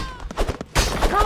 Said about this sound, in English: I just shot that guy's head.